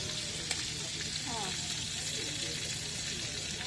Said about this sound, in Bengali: কাঁকড়া গুলো হচ্ছে ফ্রাই করতেছে মেবি।